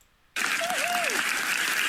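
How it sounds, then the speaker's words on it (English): A canned applause sound effect starts abruptly after a brief silence and continues as steady, dense crowd clapping, with a faint whistle rising and falling near the start. "What is with this stupid fucking applause sound effect?"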